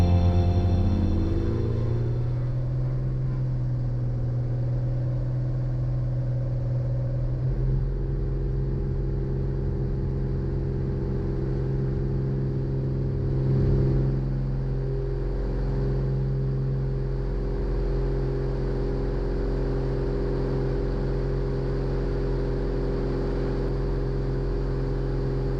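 Light aircraft rolling down runway 04 for takeoff: the engine's drone climbs in pitch over the first few seconds, then settles into a long, steady, loud roar with a deep rumble underneath.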